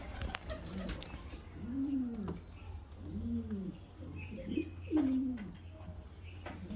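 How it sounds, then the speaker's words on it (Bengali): Pigeons, a mix of high-flyer and low-flyer birds kept for sale, coo in several soft rising-and-falling calls, close by, over a steady low background hum. "এখানে দেখতে পাচ্ছেন পাঁচ পিস পায়রা"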